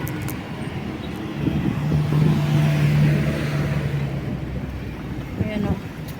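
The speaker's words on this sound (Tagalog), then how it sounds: "Traffic na naman po sa ngayon kasi may pasok na." Road traffic rumbles past on a busy street during the school-day rush, a steady low roar of cars with one vehicle swelling louder and nearer in the middle before fading.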